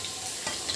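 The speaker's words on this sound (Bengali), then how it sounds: "আর একটু পেঁয়াজও ভাজতে দিতে হবে।" Onions frying in hot oil during biryani preparation, a brief steady sizzle heard close up with a faint clatter, no talking.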